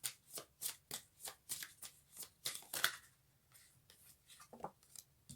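Oracle cards being shuffled by hand, a steady rhythmic series of soft riffling swishes, close and quiet, around a dozen strokes that grow sparser toward the end.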